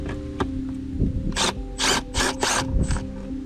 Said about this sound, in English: Let's get those out using the gun and the purple socket